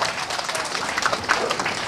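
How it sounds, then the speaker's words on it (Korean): Audience applause at a commemorative ceremony, a close, fairly loud burst of many hands clapping with a few sharper individual claps standing out, brief and continuous. "박수 한번 크게 쳐주십시오"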